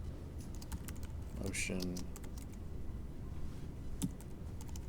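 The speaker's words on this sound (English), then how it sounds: "now I'm going to type my title" Rapid clicking of keys on a computer keyboard as a title is typed into Adobe After Effects, a steady close patter of keystrokes running throughout, with a brief spoken word partway through.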